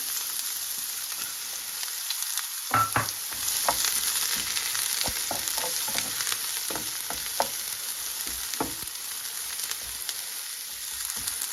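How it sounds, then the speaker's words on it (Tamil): Chopped onions fry in hot oil in a pan for an anchovy thokku, a steady close sizzling hiss broken by light stirring clicks and taps. "எண்ணெய் சூடாக வைத்தது இப்போ நான் வெட்டி வச்சிருந்த வெங்காயத்தை சேர்க்குறேன்"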